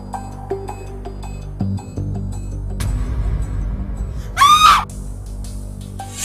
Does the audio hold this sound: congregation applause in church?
no